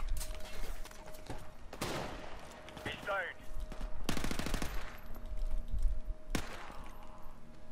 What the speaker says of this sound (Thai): กูว่าเราต้องใช้ปืนกลกันแล้วแหละ